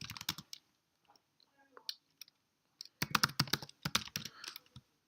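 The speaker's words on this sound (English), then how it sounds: "So let's assume I type something like this." Quick bursts of close computer keyboard typing: a short flurry at the start, scattered single key clicks, then a dense run of rapid keystrokes, with quiet gaps in between.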